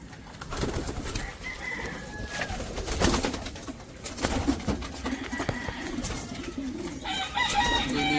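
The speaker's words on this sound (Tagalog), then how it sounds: "Papasok na yung mga old bird." Pigeons cooing as old birds come into a loft, soft repeated coos and wing flutters nearby, mixed with rustling and a brief higher bird call toward the end.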